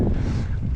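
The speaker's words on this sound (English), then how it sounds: "Oh, it's getting windy now." Wind buffeting a microphone while cycling on a steep, exposed road in the Pennines of Lancashire, a short burst of low, rough rumble close up.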